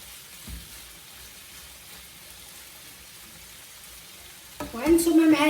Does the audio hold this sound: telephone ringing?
no